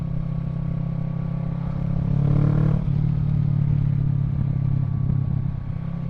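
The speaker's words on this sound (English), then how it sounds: "The rumble from the exhaust, yeah, it's directly under your butt now." A Kawasaki Z650 motorcycle fitted with a Yoshimura Alpha exhaust gives a steady, deep, bass-heavy rumble up close, swelling briefly midway before settling back to a constant drone.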